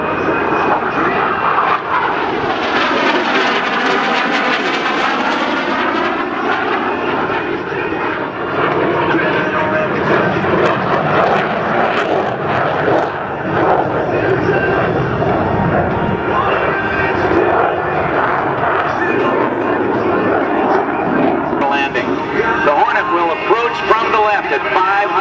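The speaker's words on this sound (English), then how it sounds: "here, only at about 250 miles per hour, is your United States Navy's F-A-18 Hornet." A US Navy F/A-18C Hornet passes at an air show at about 250 mph, its jet engine roaring loudly and continuously with a sweeping pitch shift as it goes by, while an announcer talks over the noise.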